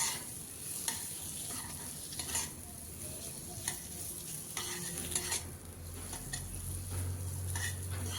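Boiled skin-on potatoes are stirred with spices in a hot pan for a Bengali pui chorchori, a steady sizzle under repeated scraping and clinking of a spatula against the metal pan, close and continuous.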